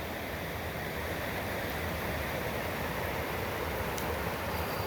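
A waterfall on a creek near an old mill gives a constant, even rush of falling water, unchanging for the whole stretch, with no voices.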